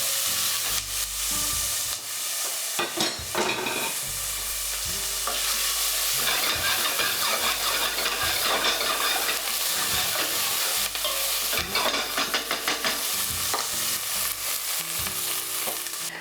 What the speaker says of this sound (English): We're going to add the rest of the diced onions,